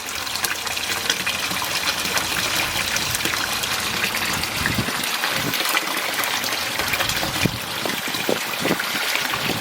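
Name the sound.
water splashing from filter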